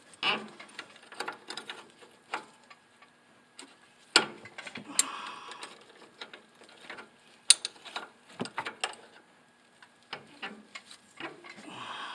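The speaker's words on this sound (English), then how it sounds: "we can go ahead and begin to loosen the bolts on the bottom" Wrench turning and loosening bolts on a third-generation Toyota Tacoma's shock during a lift install, with scattered metallic clicks and ratcheting ticks separated by quiet gaps.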